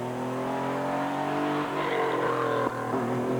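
Porsche rally car on a stage of the 1997 Jersey Rally, smoking from the rear, its engine revving hard with pitch climbing and dropping through quick gear shifts, loud and close.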